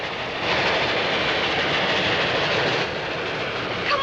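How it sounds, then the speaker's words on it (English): A steam-era train rumbles past across open prairie in the 1930s, a steady, close, roaring clatter of wheels and cars that swells slightly and holds for several seconds with no voices over it. "Look, Pa, it's a train."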